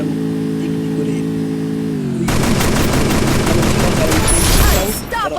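Rapid automatic gunfire from the battle royale game Free Fire bursts out loudly after a brief lull, a dense rattling stream of shots with a hint of game engine noise beneath.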